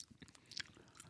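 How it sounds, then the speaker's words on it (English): Someone chews Grenades gum close to the microphone, giving soft, wet, irregular smacking and squishing bites over about a second. "Enjoy the chewing sound into the microphones"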